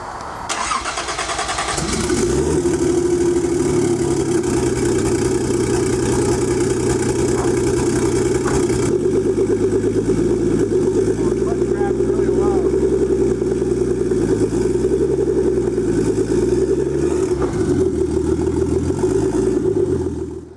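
A turbocharged Datsun 280ZX engine cranks, catches and runs steadily at a fairly loud idle, with blips of throttle and rising revs partway through, sustained for about twenty seconds.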